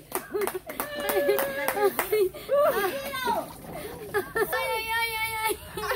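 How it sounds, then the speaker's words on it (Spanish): A small group of people clap for someone at an outdoor ice-barrel challenge, in short bursts of clapping mixed with excited chatter, calls and laughter close by. "un aplauso para Patricia"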